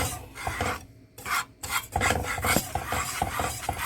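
A spoon scrapes and rasps around a pot of thick Copper Dula bark parch flour porridge, steady rhythmic rubbing strokes close up with brief pauses, no talking.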